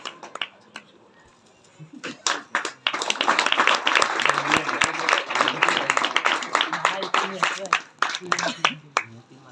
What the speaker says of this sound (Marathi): जोरदार टाळ्या झाल्या पाहिजे